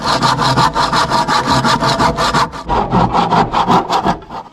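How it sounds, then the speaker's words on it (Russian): Hand saw cutting through wooden support posts of a temporary shed roof, steady rapid back-and-forth strokes, loud and close, with a brief pause midway before the rhythmic rasping resumes. "Сейчас я отпилю их и переставлю сюда."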